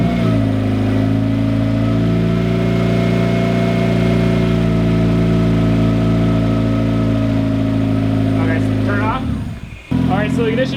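A car engine runs at steady idle after a cooling system overhaul with a coolant reroute and turbo blanket, a close, even drone with a strong low hum that cuts out sharply near the end.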